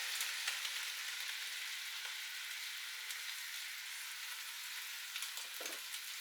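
Sieved tomato passata is stirred into a sizzling beef pasta sauce, a steady close hiss of frying with faint scrapes of the spoon running underneath throughout.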